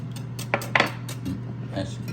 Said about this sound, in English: Mix that up just like that, nice and good.